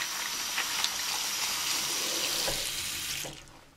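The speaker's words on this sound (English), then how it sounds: "I'll just rinse these off." Tap water runs into a sink while small parts for a 1/24 scale Back to the Future DeLorean slot car are rinsed, a steady close rushing stream that tapers off at the end.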